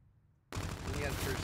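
Rapid gunfire in the shooter game Call of Duty: Infinite Warfare, a sudden loud burst after near silence that becomes a dense, continuous rattle of shots, close and harsh.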